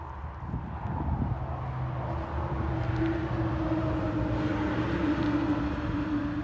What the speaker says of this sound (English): Again, sorry about the noise. I'm right on the highway.